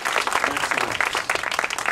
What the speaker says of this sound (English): let's give these amazing, phenomenal, intelligent, powerful people a thunderous round of applause.